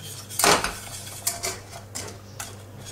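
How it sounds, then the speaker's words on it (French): A whisk stirs salted butter caramel in a pan, giving one louder clatter and then scattered light metallic clinks against the pan, close and unaccompanied by speech. "Alors on fait dissoudre tout ça. Hop, on touille."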